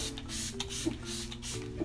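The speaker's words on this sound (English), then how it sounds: "Gotta do the setting spray to make sure we set it." Setting spray misted onto a made-up face, two short spritzes from a pump bottle, close and fairly quiet.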